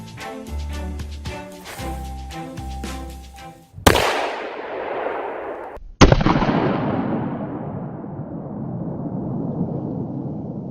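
A firecracker taped to an underarm spray deodorant can goes off, a sharp loud bang followed by a hissing whoosh, then a second bigger blast with a long roaring spray that fades, after some music at the start.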